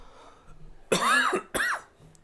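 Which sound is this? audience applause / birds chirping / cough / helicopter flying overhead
cough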